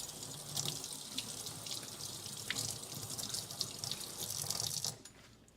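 Tap water runs steadily into a sink over a pizza dough cutter being rinsed, a broad continuous rush with small splashy bursts that cuts off near the end, leaving a quiet tail.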